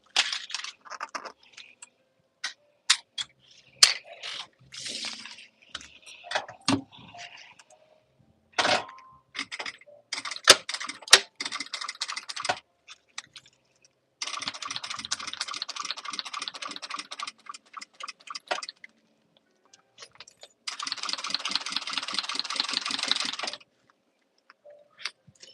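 A sewing machine top stitches a stadium bag in two sustained runs of rapid, even stitching, preceded by scattered clicks and handling noises in a quiet room.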